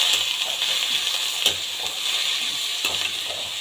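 Chopped vegetables sautéing in a pan for a quick semolina tiffin, a steady hissing sizzle broken by a few light stirring clicks, close and even, with no talking.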